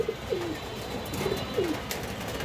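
A female Totashahi pigeon kept with other pigeons gives a few soft, low coos in short separate phrases, close by, over a faint background hum.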